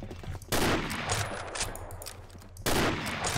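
Rapid automatic fire from an M14 rifle in the online shooter Combat Arms, two loud bursts of gunfire separated by a short gap of quieter game sounds.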